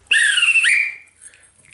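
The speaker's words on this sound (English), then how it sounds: "This whistle has seen away steam trains." A railway guard's metal whistle that once saw off steam trains gives one shrill blast lasting under a second, close and loud, with a short rising warble near its end before it fades out.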